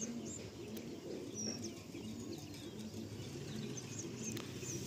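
Pigeons coo softly in a pigeon loft in Garia, with low murmuring calls and occasional chirps blending into a steady ambient bed, no one speaking.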